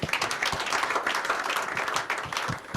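A short stretch of audience applause at a Brekete Family radio programme, steady scattered clapping at moderate level for a few seconds with faint voices underneath.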